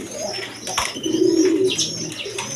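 Soft, low cooing of red pigeons close by, a rolling coo swelling in the middle, with faint chirps and a brief wing flutter.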